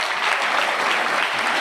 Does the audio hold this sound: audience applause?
yes